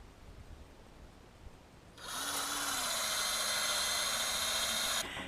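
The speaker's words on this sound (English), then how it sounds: "3 to 4 feet off the ground is where you're going to drill" A cordless power drill bores into a birch or maple trunk to tap it for sap, a loud steady whine starting after two seconds of quiet outdoor air and running about three seconds before cutting off.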